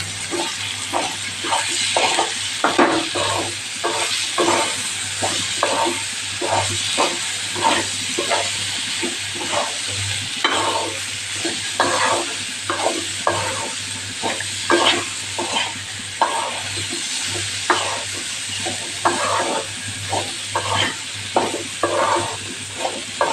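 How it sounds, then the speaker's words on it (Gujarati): Carrots and potatoes sautéing with turmeric, coriander-cumin powder and salt in a pan for a Kathiyawadi vegetable dish: continuous close sizzling and frying hiss, broken by frequent rhythmic scrapes of a spoon stirring, with no talk. "બધું સરસ આપણે સાતળી લઈશું મસાલા સાથે"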